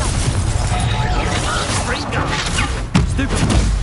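Confringo fire curse blasts in the Hogwarts Legacy game, a rumbling whooshing roar punctuated by a sharp thudding impact near the end, heavy and close amid noisy game effects.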